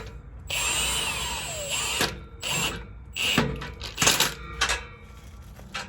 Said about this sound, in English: let's see how tight these things actually are with our socket